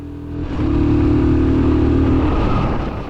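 A Royal Enfield Guerrilla 450 motorcycle engine swells from a low idle into a strong, steady rev, its loud throaty drone holding for a couple of seconds before easing off slightly.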